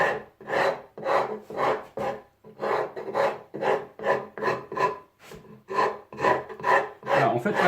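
A wood rasp files across a piece of wood in steady, rhythmic back-and-forth strokes, about two per second, each a loud, close, coarse scrape, with no talking over it.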